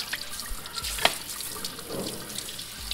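Cold tap water runs and splashes steadily over freshly caught Dungeness crabs in a sink, a soft continuous hiss with a few brief knocks as the crabs are handled close by.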